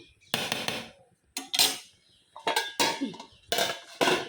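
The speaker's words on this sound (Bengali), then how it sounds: "এই যে পোলাওটা বসায় দিচ্ছি পোলাওটা একটু হবে তারপর উল্টাই দিব" A pot of pulao is set on a kitchen stove: a series of sharp metallic clanks and scrapes in irregular bursts, close and fairly loud, with quiet gaps between them.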